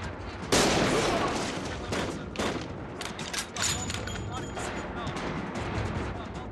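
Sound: gunfire in an action film

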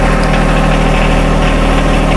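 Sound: compact tractor engine running

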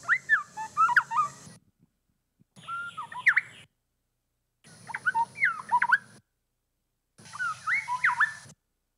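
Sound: male black-bellied wren song, played recording

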